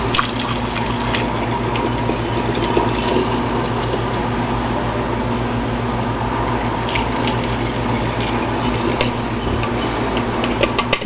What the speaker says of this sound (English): So I'm going to just fill them up with hot water over here.